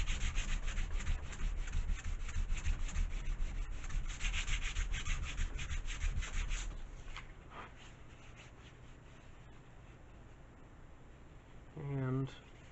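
A sanding block rubbing across a thin wooden part during a build, steady back-and-forth scraping strokes for several seconds, then fading out to quiet with a brief voice near the end.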